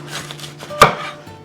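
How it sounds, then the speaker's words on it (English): A knife chops through a red bell pepper on a cutting board, giving one sharp, close impact amid faint kitchen background hum. "Take your red bell pepper, okay. This is the red bell pepper. I'm chopping it from the sides."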